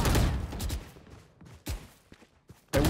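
Gunfire in a first-person shooter video game: a loud opening volley of rapid shots, then scattered quieter bursts and a final sharp close burst.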